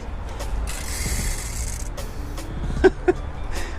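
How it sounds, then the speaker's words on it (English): A Toyota 4Runner with a dead battery gives a couple of sharp solenoid clicks near the end, set among creaky mechanical rattles and clunks, close and fairly loud, with no talking. "Does a little solenoid check."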